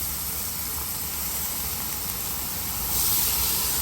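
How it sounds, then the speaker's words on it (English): A steady, loud broadband hiss of flank steak sizzling in a hot pan, continuous throughout and swelling slightly louder near the end, with no talking. "Listen to that sizzle."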